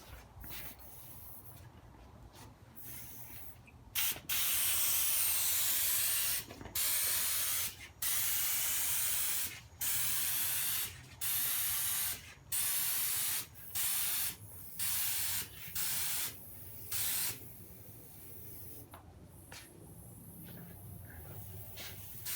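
Spray gun laying a primer coat on a car body repair panel, delivered as a series of steady, loud hissing bursts about a second each with short pauses between, close up, no talking.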